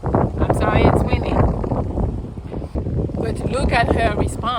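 Outdoor wind buffeting a microphone, a loud continuous rumbling roar that runs the whole time under someone talking.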